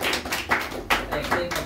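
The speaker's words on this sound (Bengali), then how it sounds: "হাততালি হাততালি" Class 12 students clapping at a Teachers' Day celebration, a short burst of a few sharp hand claps mixed with voices.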